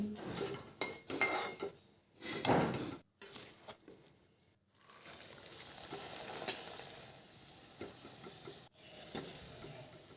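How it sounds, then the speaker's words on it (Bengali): Stuffed red-lentil dal puri deep-frying until reddish golden and lifted from the oil: bursts of sizzle and bubbling alternate with metal utensil clinks and scrapes against the pan, broken by brief quiet gaps. "এইভাবে করে লাল লাল করে ভেজে নিয়ে এগুলোকে তুলে নিচ্ছি"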